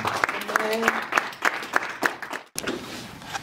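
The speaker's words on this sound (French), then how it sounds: "Acclamons pour Jésus." A church congregation claps in a steady rhythm for Jesus, about three claps a second, under a singing or speaking voice that runs alongside, then breaks off briefly before resuming.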